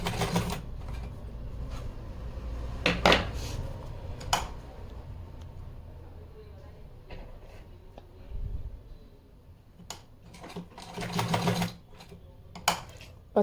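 Short bursts of a sewing machine stitching a 2-inch-wide fabric waistband strip onto a small deity outfit, rapid mechanical chatter in stop-start runs separated by quiet pauses and faint handling clicks.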